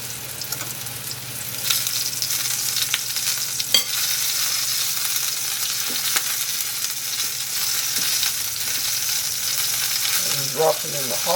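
Chicken pieces coated in flour frying skin side down in hot oil, a loud, dense, continuous sizzle that holds steady throughout, close up, with a few light clatters and no talking.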